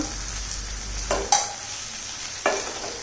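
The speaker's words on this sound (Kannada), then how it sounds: "ಮಸಾಲೆ ಅಂಟೋ ರೀತಿಯಲ್ಲಿ ಸರಿಯಾಗಿ ಮೇಲೆ ಕೆಳಗೆ ಮೇಲೆ ಕೆಳಗೆ ಮಾಡಿ ಮುಗುಚ್ಕೋಬೇಕು" Brinjal curry with masala is stirred in a frying pan, the spoon scraping twice against the pan over a steady background sizzle.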